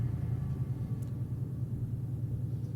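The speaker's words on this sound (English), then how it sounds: "That's a loud truck." A loud truck rumbles past nearby as a steady low engine drone, heard alone without talk.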